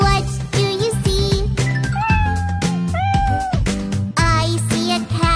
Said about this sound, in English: I see a cat. Meow,